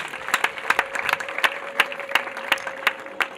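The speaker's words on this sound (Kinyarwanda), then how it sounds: "Komera Imana amashyi menshi cyane." Congregation at a church service clapping in praise, a dense burst of rhythmic handclaps with sharper accented beats standing out, steady over a sustained tone in the background.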